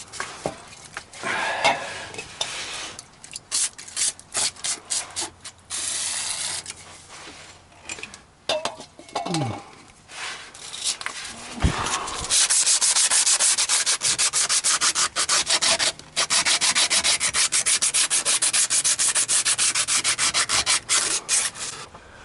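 Rubbing and buffing on the metal surfaces of a 1993 GMC Sonoma work truck, cleaning them up for a gasket. Intermittent scrubbing strokes come first, then a steady, loud, continuous abrasive buffing that runs through most of the second half.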